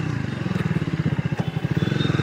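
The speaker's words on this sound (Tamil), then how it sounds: "இன்ஜின் எக்ஸாஸ்ட் நோட் கேளுங்க." Triumph Thruxton 400 cafe racer motorcycle idling, its exhaust note a steady, even low-pitched thumping pulse heard up close and alone.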